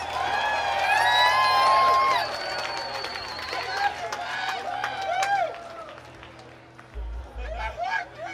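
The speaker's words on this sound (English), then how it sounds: "Give him another round of applause." An audience at a live comedy show applauds and cheers loudly, with whoops and shouts rising over a steady clapping wash that then thins into crowd chatter.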